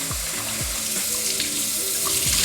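Tap water runs steadily in a home kitchen while rice is rinsed for Sunday dinner. A constant close wash of water carries occasional splashes and gurgles from the rice being stirred, with no talking.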